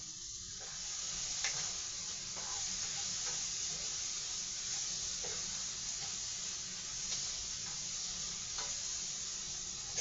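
Sausage with peppers and onion frying in a pan: a steady, close sizzle runs throughout, broken by occasional light scrapes and clicks from stirring, with no voices.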